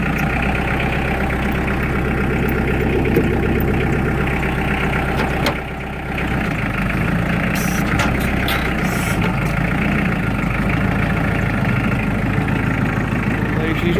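A Mahindra 4110 tractor engine runs at a steady, loud, low idle throughout a four-wheel drive test after a broken front axle was replaced. There is a brief dip partway through, and a voice speaks occasionally over the engine.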